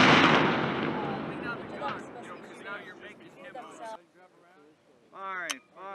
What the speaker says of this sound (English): Firing, firing, firing.